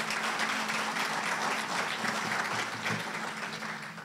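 A room of people at a Chamber of Commerce gathering claps for new members, a dense, even round of applause that holds steady and begins tapering off at the very end.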